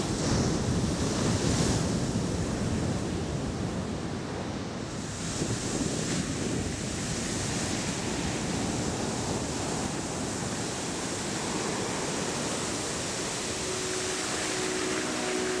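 Continuous sea surf washes over a turtle nesting beach, a dense roar of breaking waves with wind buffeting the microphone throughout.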